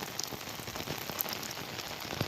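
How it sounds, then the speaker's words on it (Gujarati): Heavy rain pours down in Balagam village as a steady, dense hiss of drops hitting surfaces, close and continuous with no talk. "જોરદાર પડે જો વરસાદ એકદમ"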